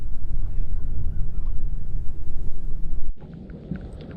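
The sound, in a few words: strong wind on Lake Lanier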